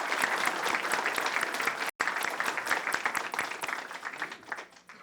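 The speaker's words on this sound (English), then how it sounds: "Let's give them a round of applause for all of them." An audience at a regular council meeting claps for utilities staff, a dense burst of applause with a brief break that continues strongly before thinning out toward the end.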